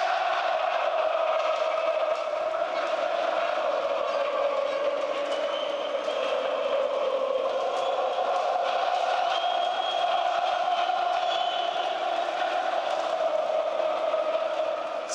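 Big arena crowd at a Counter-Strike esports match between SK and mousesports at ESL One, a continuous loud roar of shouting and cheering, steady and distant-sounding throughout.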